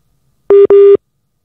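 Telephone busy signal after dialing a number: two loud, clean electronic tone pulses in quick succession, alone in otherwise silent surroundings.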